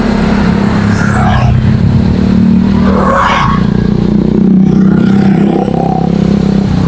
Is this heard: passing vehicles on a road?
yes